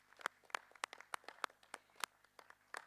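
An audience gives a speaker a round of scattered, distinct hand claps at a session of the African Committee of Experts on the Rights and Welfare of the Child, about a dozen sharp claps spaced unevenly and heard alone without talk.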